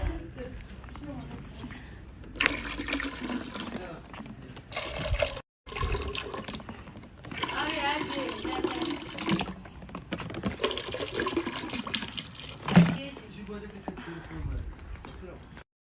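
Fresh water running from a tap into a container, a steady splashing flow that starts and stops in bursts, with someone talking over it much of the time.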